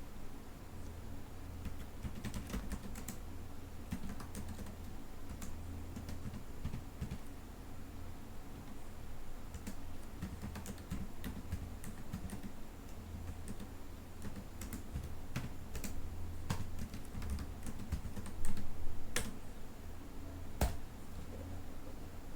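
Steady typing of commands on a computer keyboard, a dense run of close clicking keystrokes over about twenty seconds with occasional louder key taps and no voices.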